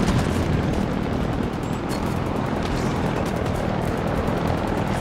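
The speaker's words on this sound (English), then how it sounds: "I'm getting gunned down." Gunfire in the video game Halo Infinite: a dense, continuous rattle of automatic fire and blasts over a loud rumbling background for five seconds, with no talking.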